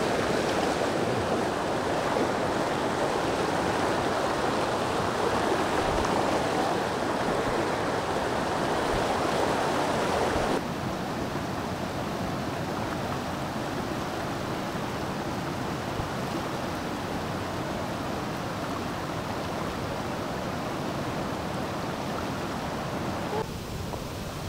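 A river rushing at a crossing on the trail near Depalyon Falls in General Nakar, Quezon, a steady broad roar of flowing water that drops slightly in loudness partway through and continues unbroken.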